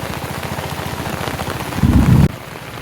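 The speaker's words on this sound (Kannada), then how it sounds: "ಇವಾಗ ನೋಡಿ ಹೆಂಗ್ ಬರ್ತಾ ಇದೆ ಮಳೆ" Heavy village downpour drumming steadily on surfaces, a dense continuous hiss that surges louder for a moment near the end before settling back, no voices.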